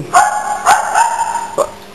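A dog gives several sharp, loud barks and yips while receiving a hot paraffin wax treatment on its coat, close up with brief pauses between calls.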